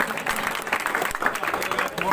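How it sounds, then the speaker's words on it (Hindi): A crowd at a Rajput community political gathering claps to welcome Madam Kiran Chaudhary, dense close applause with voices mixed in. "एक बार तालियों के साथ मैडम किरण चौधरी का बहुत बहुत स्वागत करें।"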